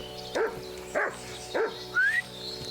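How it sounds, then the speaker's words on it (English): A dog in the video game Kingdom Come: Deliverance II barks four times at an even pace, each bark short and sharp with a yelping, whimpering edge, close and fairly loud against a quiet background. "Why are you barking at this, huh?"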